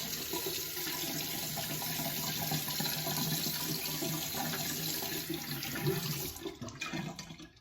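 Cold water rinsing over a freshly straight-razor-shaved head and neck, a steady close splashing, running-water wash that holds for about six seconds before tapering off with a few irregular drips and splashes.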